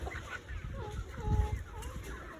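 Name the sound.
chickens clucking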